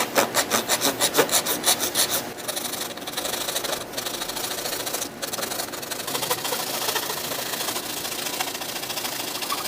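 A DIY anchor pin having its point shaped, starting with a fast rhythmic rasping, filing, or sawing stroke, then settling into a continuous close grinding rub, broken by a few brief gaps.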